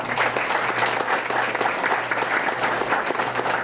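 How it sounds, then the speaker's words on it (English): An audience at a community event on school desegregation history claps in a sustained, dense round of applause that holds steady throughout, with no speech over it. "Let's please give him another round of applause."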